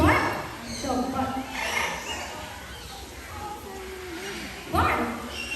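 At a bird show in a safari park, a parrot imitates a dog's bark with short barking yips, heard amid a trainer's talk and crowd noise.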